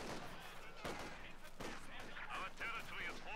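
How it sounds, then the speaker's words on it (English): Gunfire in a strategy video game pops in scattered shots and bursts over a steady din of battle, with voices talking underneath. "let's get some shooting going"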